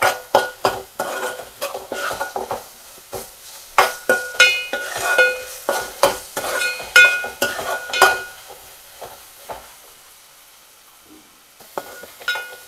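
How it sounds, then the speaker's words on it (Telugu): Tomatoes softening in a pan of egg pulusu are stirred with a utensil, giving repeated scraping clinks against the pan in bursts over a soft sizzle, with a quieter stretch near the end. "టమాటాలు కూడా మగ్గిపోతున్నాయి."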